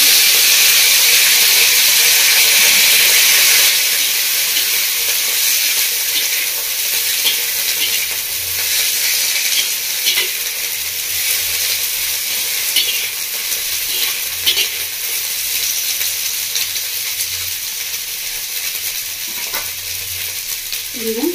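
Washed, cut drumstick stalks frying in a pan with oil, a loud continuous sizzle and steamy hiss with occasional scraping stirs, steady throughout and no talking.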